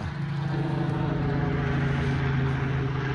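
A large, heavy helicopter passing overhead, a steady loud rotor and engine drone holding throughout with no speech.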